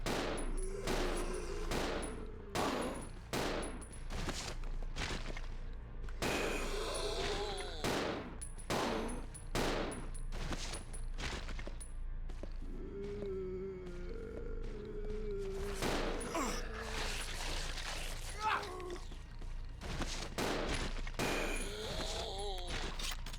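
Gunshots from Resident Evil 0 fired in a cramped space, sharp loud bursts spaced irregularly across the stretch with metallic clangs and game ambience between them, and no talking.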